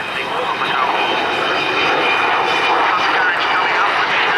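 An Avro Vulcan jet bomber flying a display at the Cosford Airshow, a loud continuous jet engine roar with a sweeping tone, while a commentator talks over the public address.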